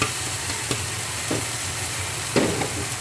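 A spoon stirs hot tempering into a red chili chutney, a steady close sizzle and frying hiss with a few soft scraping strokes.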